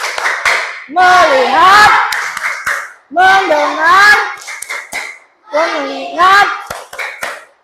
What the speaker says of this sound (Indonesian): Yang kedua tepuk fokus.